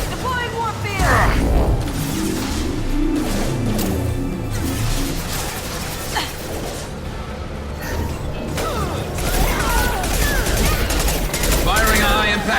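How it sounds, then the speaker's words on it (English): Heavy gunfire from a high-impact shot in the sci-fi shooter game Mass Effect 2, booming shots and mechanical clatter amid dense battle noise, with game voices talking over the action. "Firing a high-impact shot."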